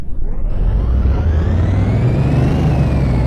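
A car engine revving hard on a dyno in Car Mechanic Simulator 2018, a loud continuous deep roar with the pitch climbing steadily as it accelerates, no voices.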